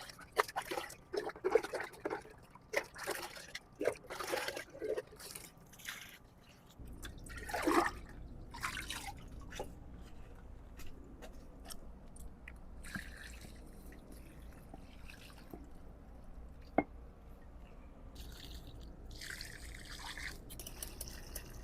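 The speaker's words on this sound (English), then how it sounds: "Now we're going to mix this and then water the plants and make sure it's properly diluted." Water trickles and drips while container plants are watered with diluted fertilizer mix, a faint, uneven pouring and splashing that steadies into a soft continuous stream, heard up close.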